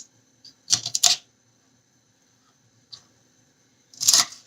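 A knife trims the stalk from half a cauliflower, with a quick cluster of crisp, close crunching cuts, a long quiet pause with a faint tick, then another short burst of cutting.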